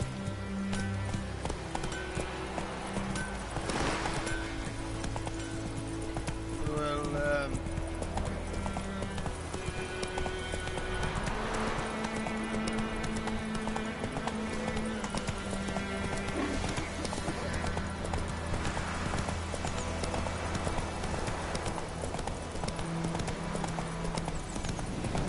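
Steady rhythmic clip-clop of horse hooves in The Witcher 3: Wild Hunt, loud and continuous over layered game music, with occasional neighs and brief character speech.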